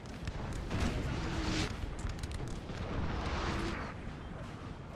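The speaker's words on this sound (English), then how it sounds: "But this artillery is definitely very deadly." Artillery cannon fire in a Napoleonic Total War battle, a dull rumbling wash of distant booms and crackling blasts swelling and fading, moderately faint and without talk.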